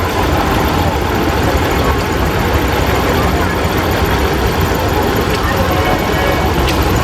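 1971 John Deere 4000 tractor engine running loud and close at a steam and gas engine show in Baraboo, Wisconsin, giving a continuous rough rumbling drone with no pauses.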